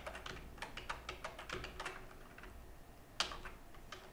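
Quiet typing on a Nordic-layout computer keyboard, a run of light irregular key clicks with a sharper tap near the end, close and alone.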